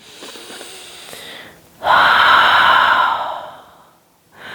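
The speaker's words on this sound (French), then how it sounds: "Une grande respiration ici." A deep breath taken during a yoga downward dog pose: a long, close, airy exhale that swells suddenly, holds steady for over a second, then fades away, following a quieter stretch of breathing.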